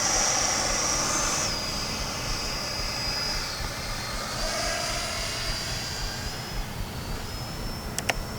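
Freewing Yak-130 RC model jet in flight, a steady high electric ducted-fan whine that rises and falls in pitch as it passes, with constant wind noise throughout and a couple of sharp clicks near the end.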